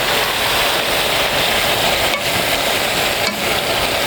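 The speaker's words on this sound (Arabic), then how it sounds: "وهقلب كله مع بعض" Peppers, salt and chopped tomatoes being stirred together in a hot pan, a close, steady sizzle and hiss of frying with faint scraping from the stirring, continuous throughout with no voices.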